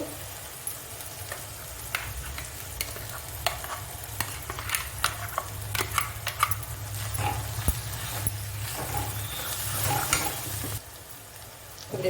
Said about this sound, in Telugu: మనం ముందుగా వేగించుకొని మిక్సీ పట్టుకున్న గోంగూర కూడా వేసేసుకుంటున్నానండి